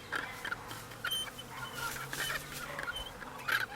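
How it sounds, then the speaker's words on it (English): A butcher bird calls in short, fairly faint notes repeated through the moment, mixed with other distant bird chatter outdoors. "And a butcher bird."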